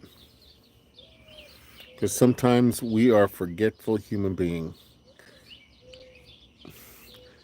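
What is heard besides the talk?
bird chirping outdoors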